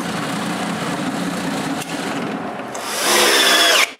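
A power drill bores a hole in the wooden side of a drawer so a drawer rail can be mounted, running steadily and close up for about three seconds, then rising into a louder, higher whine just before it stops.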